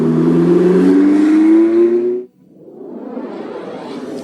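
A red Ferrari LaFerrari hybrid supercar sweeps past, a loud rising engine note followed by a sudden whoosh and a fading roar as it moves away.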